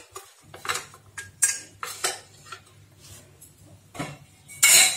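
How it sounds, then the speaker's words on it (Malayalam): Metal idli plate and puttu mould being set inside a rice cooker, a series of sharp separate clinks and clatters of metal on metal, close and fairly loud, with no talking. "ഇപ്പൊ ഞാൻ ഈ റൈസ് കുക്കറിന്റെ അകത്തോട്ട് ഒരു ഇഡ്ഡലിയുടെ തട്ട് വെച്ചു കൊടുക്കുക."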